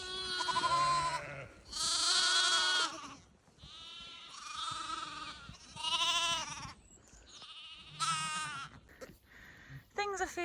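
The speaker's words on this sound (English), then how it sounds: "the ewes that lambed yesterday are here" Ewes with newborn lambs bleat repeatedly at close range, several overlapping calls with short pauses between them, loud and clear.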